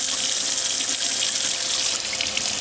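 Tap water runs in a steady, loud gush, rinsing the contacts of a Yamaha Rhino ignition switch, with no voices over it.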